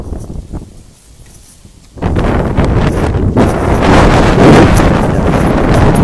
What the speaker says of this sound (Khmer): ខ្យល់ខ្លាំង